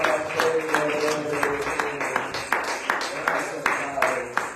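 A church congregation at a Sunday evening service claps in a steady, rhythmic beat, close and fairly loud, with voices speaking and singing over the claps.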